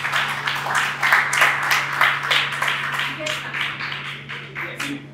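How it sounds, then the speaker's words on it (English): An audience claps through a formal public event in Nigeria, moderately loud and fairly even for about five seconds, with a steady electrical hum underneath. "A round of applause."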